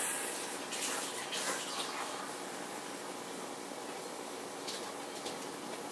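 Kitchen tap running into a sink, a steady, soft rush of water with light splashing, fairly quiet and continuous with no talk.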